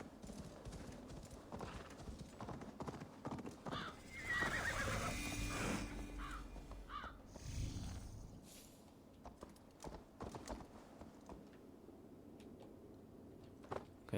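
Galloping hooves of a horse in the video game Assassin's Creed Valhalla, a rhythmic clip-clop under a whinny midway, with ambient game sound and faint voice in the background.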